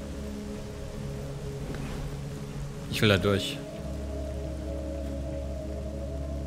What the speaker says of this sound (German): Ach, wenigstens hier regnet's